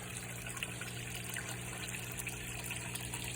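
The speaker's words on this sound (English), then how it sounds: "It's a 700-gallon per hour pump going up to this Tetra bog filter with the waterfall spillway." A 700-gallon-per-hour pond pump feeds a Tetra bog filter whose waterfall spillway splashes steadily at night, a continuous gushing trickle with a faint electrical hum and high insect chirps behind.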